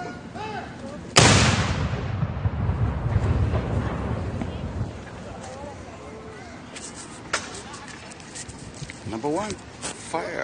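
Ceremonial cannon fires a Canada Day salute at Queen's Park in Toronto: one sudden, very loud blast with a long rumbling decay, then crowd chatter and voices nearby.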